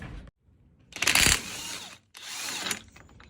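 A power tool or ratchet working the axle nut on a Jeep WJ wheel hub, two loud close bursts of whirring and clicking separated by short pauses.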